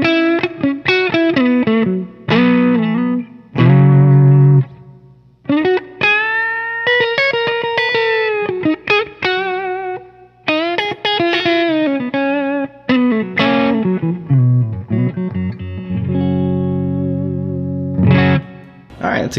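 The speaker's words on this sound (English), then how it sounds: "And the neck pickup." Electric guitar on the neck pickup through an Xotic AC Booster pedal, loud lightly driven chords and single-note phrases played in bursts with short gaps between them.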